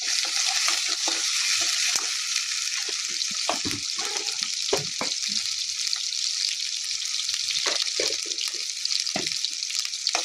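Fried tomatoes with freshly added ginger-garlic paste hiss in a pan, a continuous sizzle broken by scattered scraping and clinking from stirring, with no voices.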